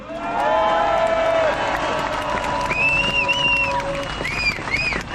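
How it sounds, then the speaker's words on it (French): A large crowd at a rally applauds and cheers, with sustained clapping under loud shouting and whooping voices that rise and fall throughout. "Nous pouvons les applaudir."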